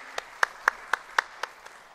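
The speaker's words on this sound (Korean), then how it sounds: "두 분 집사님께 감사와 격려의 박수 하겠습니다" A church congregation claps for two deacons during a Sunday service, a short run of six or seven separate, evenly spaced claps, moderately close and fairly quiet, with no talking.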